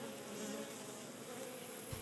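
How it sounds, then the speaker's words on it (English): A honeybee buzzes steadily and close by, a continuous droning hum with no voices over it. "Now you know all the buzz about the honeybee."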